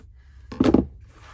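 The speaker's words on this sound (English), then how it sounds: "So I'm going to put this tape down here." Tape pressed and rubbed down onto paper while hinging pages for an Italian ladies journal, a short, close scuffing burst of under half a second in an otherwise quiet room.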